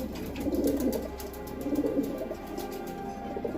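Soft, repeated cooing of an injured pigeon in low rolling phrases, steady and close, with a faint background hum and no talking.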